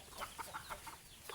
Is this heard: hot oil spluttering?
no